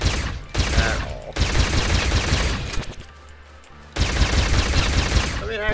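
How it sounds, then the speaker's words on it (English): Gunfire from a short-range gun in a sci-fi video game, loud dense bursts of rapid shots with brief pauses between them and a quieter gap near the end. "This gun does not have very good range."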